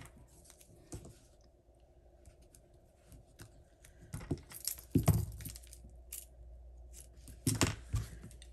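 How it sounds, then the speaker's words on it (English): Roll tape is applied to paper craft vases and a banner, heard as faint, sparse clicks and soft crinkly taps of the tape dispenser and paper on a quiet tabletop, with a few louder snaps near the end. "So we're gonna put those down with some of this roll tape here."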